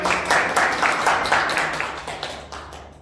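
Schoolchildren in a classroom clapping together in a quick burst of bright handclaps that gradually thins and fades over about three seconds.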